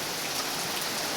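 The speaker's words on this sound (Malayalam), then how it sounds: "ഫുള്ള് മഴ തന്നെയാണ്." Heavy rain falling steadily, a dense, even hiss of drops striking surfaces nearby, with no voices or other sounds over it.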